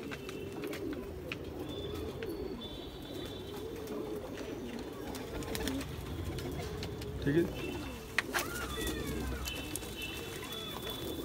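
Golden pigeons of the Rampur line coo softly and repeatedly nearby, low rounded calls over a quiet background, with people talking at times.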